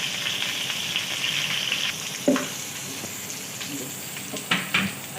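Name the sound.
whole cumin seeds sizzling in hot oil with green chillies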